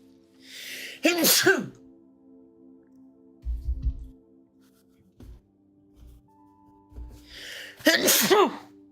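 Two loud, close sneezes ring out roughly seven seconds apart, with a few soft thumps and rustles in between, all indoors while someone is cleaning up and carrying out trash.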